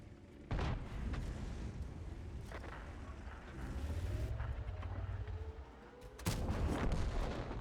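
Heavy tank cannon booms fire in a light-tank video game, two loud blasts with a rumbling engine drone between them.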